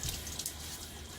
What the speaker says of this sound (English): a little water on my face.